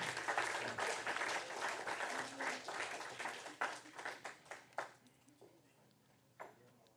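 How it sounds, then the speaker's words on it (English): A commission meeting audience applauds its youth commissioners with full, loud clapping that thins into scattered individual claps and then a few last isolated ones. "Let's give them all a big round of applause."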